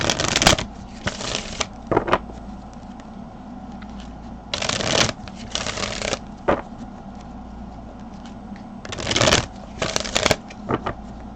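Tarot cards are shuffled in several quick riffling bursts separated by short pauses, crisp and close, with a faint room background in between and no talking.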